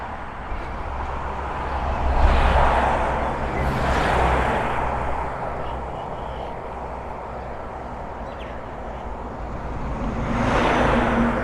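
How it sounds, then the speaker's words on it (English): Trucks roar past on a roadside while someone walks along it, the noise swelling and fading in broad waves, loud near passes at the start and again near the end over constant traffic hiss. "It's not the best feeling when trucks come past."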